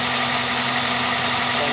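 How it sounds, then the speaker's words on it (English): A 1999 Toyota Corolla engine with a short ram intake and a muffler idles steadily, giving a close, even, continuous hum and rumble with no voices. "turn on the car and let you guys hear how it sounds"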